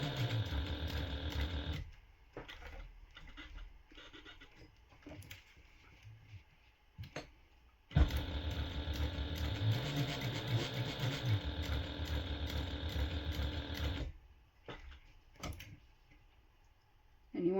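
A sewing machine stitches a fabric notepad holder with a shaker panel in long continuous runs, close and steady, stopping briefly between passes, with soft handling noises in the pauses.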